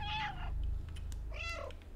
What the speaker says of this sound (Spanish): ¿Puedes hacer miau?